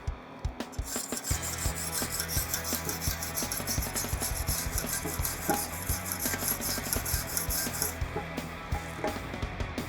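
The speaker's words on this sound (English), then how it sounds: "just clean it up with a wire brush." Steady, rasping scrubbing of a wire brush over freshly tack-welded sheet metal, continuous back-and-forth strokes close up and loud for the whole stretch, with no voices.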